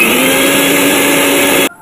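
A kitchen mixer grinder whirs loudly and steadily, blending spice paste with added water, then stops abruptly near the end.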